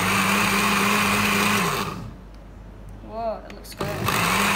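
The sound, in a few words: blender running while making an immunity booster drink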